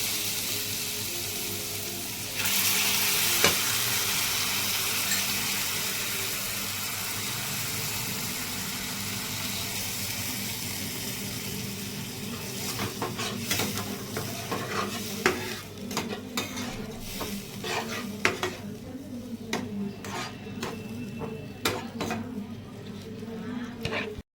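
Spices for a pomfret fish curry sizzle loudly and steadily in a hot pan from about the third second, with scraping stir strokes and clatter growing busier toward the end.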